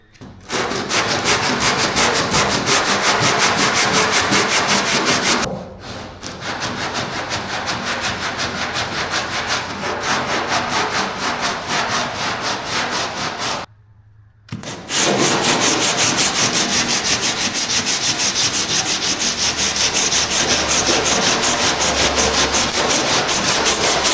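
A hot rod body gets hand block sanded with 36 grit paper, a loud, coarse, continuous rasping scrub in rapid back-and-forth strokes, briefly pausing twice before resuming.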